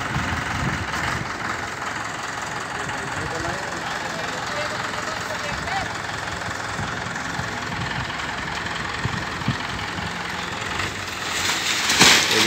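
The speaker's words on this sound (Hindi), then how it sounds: "उसके बाद ट्रैक्टर में लगा के इस तरह खींचेंगे इसे।" A Mahindra 575 DI tractor engine runs steadily at low revs while pulling a log stuck in a wall, a continuous broadband rumble that stays fairly loud throughout, with faint background voices.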